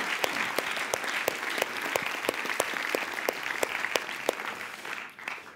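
Warm applause from a church congregation at an ICF Munich service, steady dense clapping with a few sharper claps standing out, fading away at the very end.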